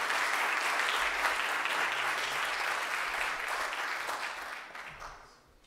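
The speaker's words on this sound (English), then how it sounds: "you deserve our grateful applause" Sustained applause from the audience at a 2019 graduate school commencement ceremony, a dense wash of clapping that holds steady and then fades out over the last second or so.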